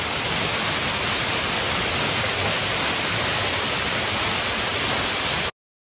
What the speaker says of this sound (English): There you go, it's a waterfall.